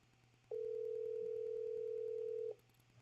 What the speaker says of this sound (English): Should take 2 rings to answer the phone,